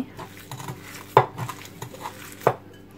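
Meatball mixture for Algerian tajine el khoukh being mixed in a bowl, with soft squishing and two sharp clinks of a utensil against the dish.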